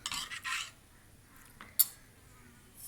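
Hot jaggery syrup being stirred into a mixture in a pan: a few quick scraping stir strokes at the start, then quieter scrapes and a single sharp clink of a spoon against the vessel, close and fairly soft, with no talking.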